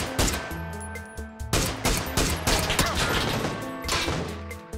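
Rapid bursts of gunfire in a video game, loud and repeated over a busy game soundtrack with a steady musical tone underneath.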